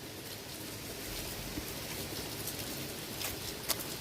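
Monsoon rain falls on a village in a soft, steady hiss, fairly faint and distant, with a few brief drips or taps standing out.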